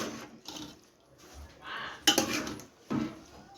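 Metal utensils clink and scrape against a pot and bowl in a few separate bursts as drumstick and spinach curry is ladled out, no talking.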